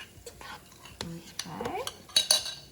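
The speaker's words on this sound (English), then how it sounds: "I'm just gonna mix all these yummy vegetables." Vegetables stirred for a peanut butter stir-fry in a pan with sauce added, a brief, quiet sequence of utensil scrapes and clinks against the pan, with a soft whispering voice.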